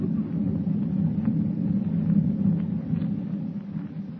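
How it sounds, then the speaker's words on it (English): Thunder rolling in an old radio drama scene, a low continuous rumble at steady loudness with no sharp crack, heard alone for a few seconds. "With thunder rolling across the dark ocean like a warning of impending doom, Clark Kent watches the minutes slip by"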